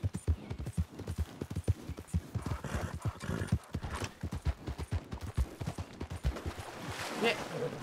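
Horse hooves clip-clopping steadily with a whinny in the RedM video game, a continuous close rhythmic trot with faint background voices.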